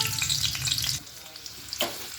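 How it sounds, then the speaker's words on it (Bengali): Potatoes fry in oil in a pan, crackling and sizzling close up with stirring for about a second, then quieter frying with a short burst of sizzle near the end. "আস্তে আস্তে আলুগুলো ভেজে নেবো"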